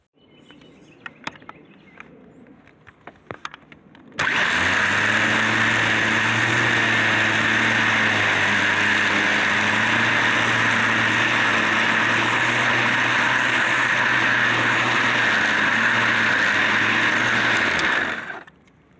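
A Black & Decker CST12 12V cordless string trimmer, converted to run on a LiFePO4 lithium battery, starts after a few quiet clicks and runs at a loud, steady high-pitched whine for about fourteen seconds before stopping abruptly.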